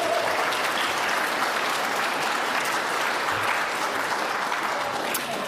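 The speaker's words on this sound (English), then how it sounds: "Round of applause for them." A seated audience at a Pacific climate youth session bursts into steady, dense applause that holds at an even level for several seconds, many hands clapping together with no individual claps standing out.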